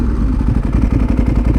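A Ducati 1098 motorcycle pulls away from traffic lights, its engine giving a loud, close, lumpy throbbing that rises as it accelerates, with no voices.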